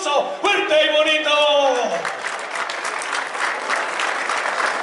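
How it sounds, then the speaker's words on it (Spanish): Loud crowd applause breaks out at a rodeo bull riding event, a dense wash of clapping right after an announcer calls for it, continuing steadily to the end. "¡Venga el aplauso fuerte y bonito!"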